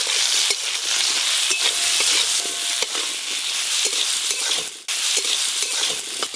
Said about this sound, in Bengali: সর্ষের তেল, আজকে ডমুরে আলু আর বেগুন দেব, একসঙ্গেই ভেজে নেব।